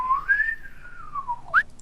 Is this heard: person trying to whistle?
yes